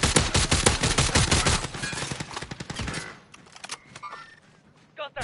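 Rapid bursts of gunfire crack loudly in a dense volley for about three seconds, then thin out into scattered, fainter shots and clatter, with a final sharp burst near the end.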